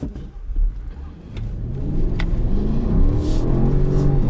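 A new $170K Range Rover SUV accelerates at full throttle in snow mode on sloppy winter roads. A deep engine rumble builds and then holds loud and close, with some road and slush noise under it and no talking.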